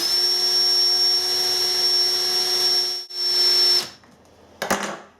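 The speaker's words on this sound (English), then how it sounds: "Our cordless drill is doing about 850 RPM, which should be quite sufficient for the task I have in mind for it." A cordless drill spins at about 850 RPM with a steady, close whine for nearly four seconds, with a brief dip partway through. It then cuts off, followed by a short burst of handling noise.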